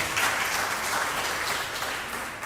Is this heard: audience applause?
yes